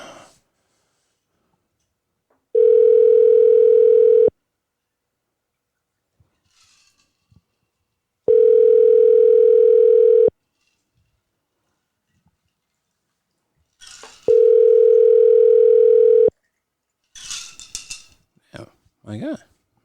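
An outgoing phone call's ringback tone sounds three times, each a steady buzzing tone about two seconds long separated by roughly four seconds of near silence, followed by brief close-up voices and movement at the end.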